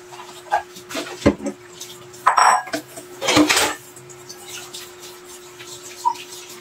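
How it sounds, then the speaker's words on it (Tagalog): Plates and dishes from a meal and coffee are washed by hand at a kitchen sink, loud clinks and clatters of crockery in irregular bursts with splashing water between, close by. "hugas-hugas muna tayo mga katsi ng ating pinggan"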